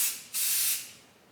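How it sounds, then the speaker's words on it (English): Aerosol spray coats a balloon in two short hissing bursts, the second longer and louder, close to the listener, with no one talking. "You just spray and leave it"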